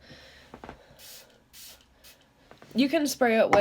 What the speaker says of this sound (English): I'm just going to spray it with my Smashbox primer water